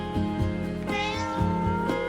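A pet cat meows repeatedly indoors, a string of close, insistent, drawn-out calls in quick succession with no talking.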